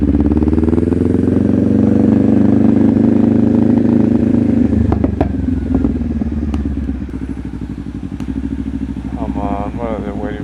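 A candy red Kawasaki Ninja 500 rumbles steadily while cruising, its exhaust a loud, close, continuous drone that eases slightly in pitch partway through, with a passing beep and faint chatter late.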